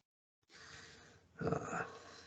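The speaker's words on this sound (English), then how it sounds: "It's a big dog." A big dog in the 1978 horror film Halloween gives a low, breathy growl that swells briefly louder midway through the short stretch, heard fairly close with no talk.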